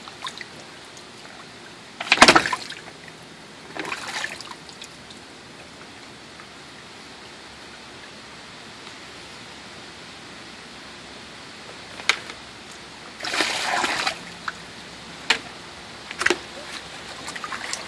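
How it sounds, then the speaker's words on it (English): A toddler splashing in water, with a few sharp splash bursts spread across the clip, separated by quiet stretches; the splashes are close and brief, with no talking. "Splash, splash, splash!"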